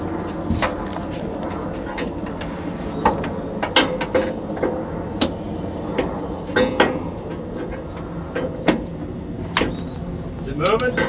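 Gear-driven cable and screw mechanism of a Mercedes 300D sunroof clicking and ratcheting, with sharp intermittent clinks over a steady mechanical rumble, close by with some talk.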